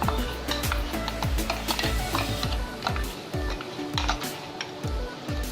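Onion and tomato puree hits golden-brown fried onions in a pan for a paneer lababdar gravy, giving a steady sizzle and frying crackle broken by repeated sharp knocks of a spoon stirring against the pan.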